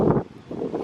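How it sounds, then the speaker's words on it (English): Strong storm wind gusting through trees outdoors, a broad rushing roar buffeting the microphone in two loud surges separated by a brief lull. "So it is super windy out here."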